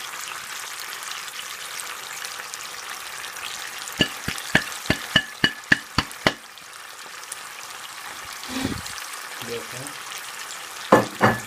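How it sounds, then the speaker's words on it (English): Steady sizzle of spices frying in hot oil for a takeaway-style Madras curry, with a run of rapid metallic spoon taps on the pan and scraping stirs; a brief word is spoken. "Spices are in. We'll give these a mix now."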